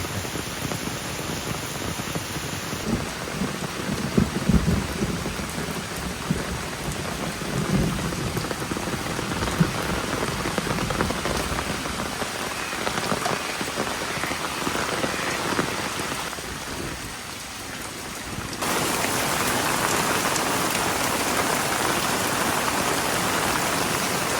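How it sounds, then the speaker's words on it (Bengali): Heavy rain pours steadily in a dense, continuous roar, drumming on surfaces with no voices, growing slightly louder and brighter toward the end. "কীরকম বৃষ্টি হচ্ছে ভাবুন"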